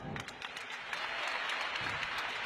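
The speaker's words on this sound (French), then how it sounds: "applaudissez très fort pour vous" An audience applauds at a lively stage show, a quiet, fairly distant spread of clapping that builds slightly, with a little voice mixed in.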